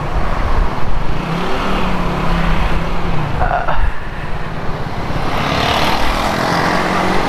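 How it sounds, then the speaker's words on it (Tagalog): Heavy rush-hour road traffic in Taiwan, heard from riders on a KRV Moto 180 scooter, with a steady close engine and road drone, passing car rumbles and a brief mid-clip swell of vehicle noise. "Grabe yung traffic."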